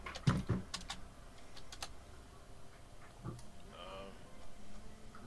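Dice dropping from a hand onto a drawer, producing a quick cluster of sharp clicks and rattles at the start, followed by a few scattered taps and faint speech.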